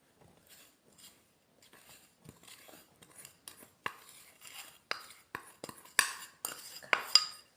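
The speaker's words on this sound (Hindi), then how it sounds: "इसको अच्छी तरह मिक्स करते हैं पहले।" Ghee and powdered sugar being mixed in a bowl for nankhatai, with a spoon scraping and clinking against the bowl in irregular strokes that grow louder and sharper toward the end, close up, with no talking.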